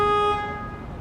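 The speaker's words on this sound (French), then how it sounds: "c'est évidemment une voiture qui klaxonne" A car horn gives one loud, steady honk near a park where children play, sustained for about a third of a second before fading into background traffic rumble.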